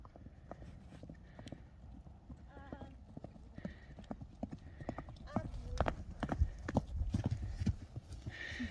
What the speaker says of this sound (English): You're going to gallop past me then, Lil?